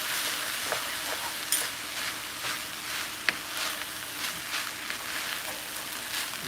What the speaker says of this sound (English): I'm going to just stir this around.